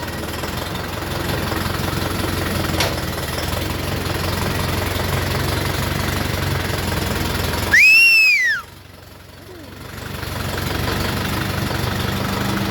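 A tractor engine, an Orion JD504RC with cab, idles and rumbles steadily throughout, with a few rising whistle-like tones near the end before the noise drops and then returns.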